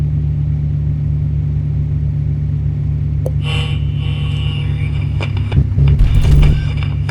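A truck engine in the video game Truck Simulator, a steady low idling hum that picks up clicks and a brief louder rev and rumble near the end.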